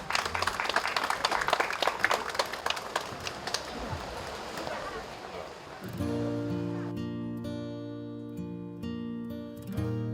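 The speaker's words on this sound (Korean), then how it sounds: "박수 한번 주십시오" Audience applause at a traditional Korean wedding held at a hyanggyo (Confucian school) in Jeonju, with a Korean groom and Japanese bride: dense, lively clapping for about six seconds, then sustained tonal music takes over.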